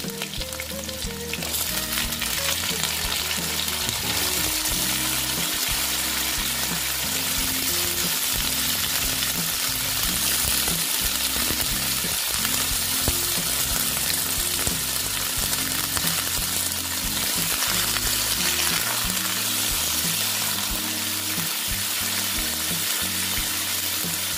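Squash pieces fry in a pan, giving a loud, dense, unbroken sizzle that holds steady for the whole stretch, with occasional faint stirring. No talking.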